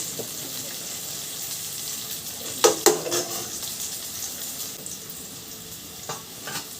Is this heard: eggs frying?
yes